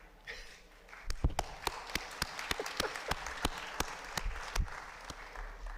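Applause from an audience at a town public meeting in Brookline, with a sparse scattering of distinct claps building into a steady, moderately loud patter that carries on for several seconds.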